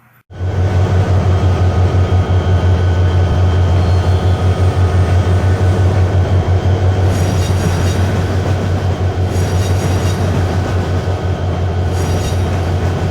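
A train rumbles past close by, a loud steady roar with rhythmic wheel clatter and occasional high metallic squeals toward the end.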